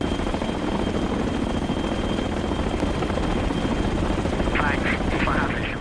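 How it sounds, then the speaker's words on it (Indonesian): A military combat helicopter lands, its rotor and engine making a steady, dense drone that holds loud and even throughout, with faint higher chirps near the end. "Terlihat sebuah helikopter tempur mendarat dengan membawa perbekalan makanan dan amunisi untuk prajurit"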